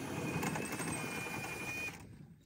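A little homemade outboard motor near a classic timber boat hums and buzzes continuously, a steady mechanical drone with a high whine, then cuts away abruptly near the end.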